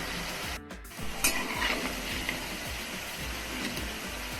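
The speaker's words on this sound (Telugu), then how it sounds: "లైట్ బ్రౌన్ కలర్లో వచ్చే వరకు మనం డీప్ ఫ్రై చేసి సపరేట్ చేసుకుందాం" Sweet corn pakodi deep frying in hot oil, a soft continuous bubbling sizzle with a few faint clinks of a utensil, fairly quiet and brief with no voices.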